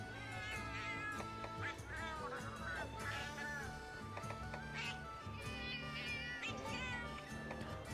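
Repeated cat meows from a Palico voice selection in Monster Hunter Generations, several bright, wavering mews in quick succession over a soft game music bed.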